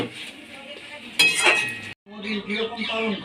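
A spoon stirring a fish head and Malabar spinach curry in a pan, with brief clattering scrapes and metal clinks close by over a soft sizzle.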